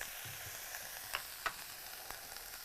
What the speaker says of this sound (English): I'm in sear mode over here.